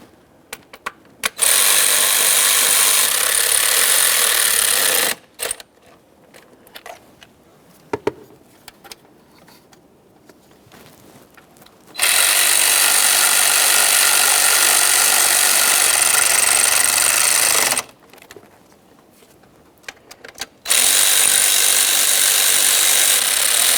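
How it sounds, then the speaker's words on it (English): Ratchet and power-tool bursts snug and torque bolts on a 2012-2018 Nissan Maxima 3.5L V6 engine during camshaft position sensor replacement, two long loud runs of several seconds each separated by quiet gaps with small clicks, no talking. "we're going to snug these and torque these to 60 inch-pounds in a specific sequence"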